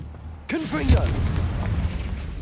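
A Confringo blasting spell fired in Hogwarts Legacy lands as a sudden booming burst with a crackling, rumbling tail that fades over a couple of seconds, while a voice sounds over it.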